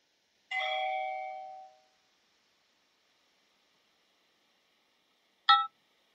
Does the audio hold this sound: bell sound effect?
yes